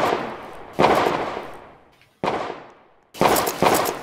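Video game fireworks go off in three separate loud booming bursts, each one sharp at the start and then fading away with a crackling tail, spaced about a second and a half apart and heard with no talking.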